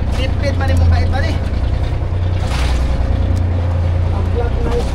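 Fishing boat engine running steadily at close range, a loud low droning hum with constant rumble, with people talking over it.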